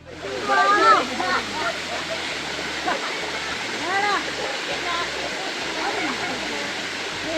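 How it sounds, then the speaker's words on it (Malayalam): A monsoon waterfall at Malamalkkavu, Palakkad, gives a continuous broad rushing roar, with a voice rising and falling over the steady water noise. "മഴക്കാലത്ത് മാത്രം കാണപ്പെടുന്ന ഒരു അടിപൊളി വെള്ളച്ചാട്ടം തന്നെയാണിത്"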